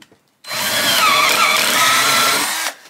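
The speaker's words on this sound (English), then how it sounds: "So I'm going to drill a little bit both ways, like so." A power drill bores into a guitar neck-pulling jig, set on a low clutch, in one steady close run of about two seconds that starts abruptly and cuts off just as sharply.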